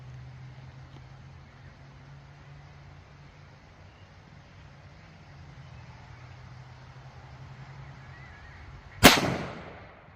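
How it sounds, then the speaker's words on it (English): A single sharp, loud report of a .357 SIG Underwood JHP round fired downrange at an outdoor range, with a decaying tail, near the end after several seconds of low hum and wind. "Let's send 10 rounds downrange and see how we do."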